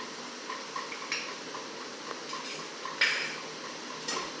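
Spices for palak paneer are stirred in a pan, a faint low sizzle under scattered light scrapes and clinks of a utensil, close but quiet.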